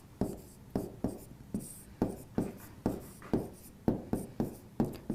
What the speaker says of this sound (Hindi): तो देखिए नाम लिखिए अवतार सिंह वर्सेस जगजीत सिंह